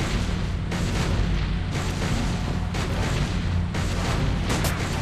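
Rapid, heavy gunfire from the video game Sam & Max Save the World, a loud continuous barrage of booming shots and bursts that runs through the whole stretch with no pause.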